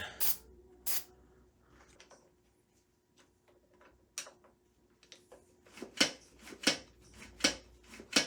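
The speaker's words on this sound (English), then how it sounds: "Actually going to use a little bit of fluid film on there." Short hissing bursts of Fluid Film lubricant spray are aimed at a 1972 Yamaha DT2 motorcycle, several separate puffs with a faster rhythmic run of sprays near the end, close and fairly quiet.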